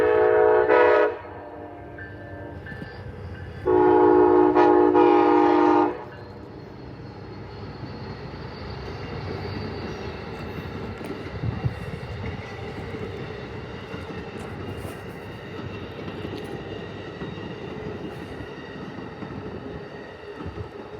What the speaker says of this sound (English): my first catch was the Amtrak Crescent PO20 at 12:30 p.m., with ALC 42 302 leading